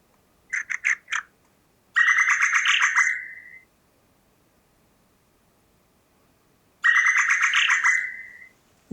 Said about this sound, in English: You can hear the bird in it.